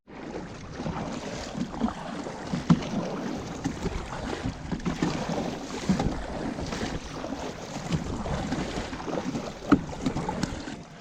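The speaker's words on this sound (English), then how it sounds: "For right now, I'm just gonna paddle my little tail off." Kayak paddling out on open water toward an offshore oil rig, with steady wind buffeting the microphone and irregular soft splashes and strokes continuing throughout, no voices.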